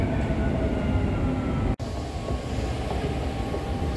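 Steady rumble and hum of a Dubai Metro train in motion, loud and continuous, with a brief dropout partway through; no voices.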